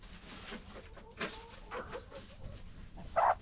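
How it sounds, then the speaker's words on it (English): A small chicken clucks in a backyard flock, with soft scattered clucks and a sharper, louder call near the end over quiet background. "You're one of our smallest chickens, and you pick on everybody."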